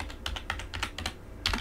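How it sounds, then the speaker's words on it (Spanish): Quick, close keystrokes on a computer keyboard as a password is entered, a string of crisp taps with short irregular gaps and a louder cluster at the end. "escribimos nuestra contraseña"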